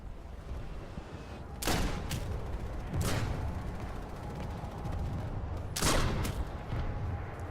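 Sniper rifle fire in Planetside 2 during a base assault, several sharp, loud cracks spaced a second or more apart over a constant rumbling battle backdrop.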